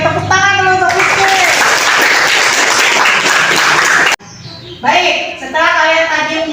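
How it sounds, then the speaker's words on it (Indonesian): Schoolchildren in a classroom break into applause for a classmate. A dense burst of clapping fills the middle stretch, framed by excited children's voices calling out before and after it. "Tepuk tangan dulu untuk Rizky"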